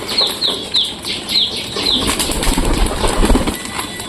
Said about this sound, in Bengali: দেখো সব কবুতরগুলো নামতেছে ধীরে ধীরে